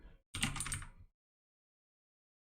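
A brief burst of computer keyboard typing, a quick cluster of clicks lasting under a second, followed by near silence and one last tap at the end.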